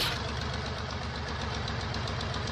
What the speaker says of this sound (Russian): давайте запущу двигатель, объясню.